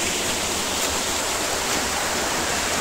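A forest waterfall spills down into a series of small pools, giving a steady, broad rushing roar of falling water, close and continuous with no voices.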